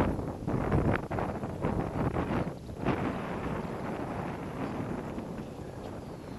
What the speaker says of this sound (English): the wind's dropping off or something.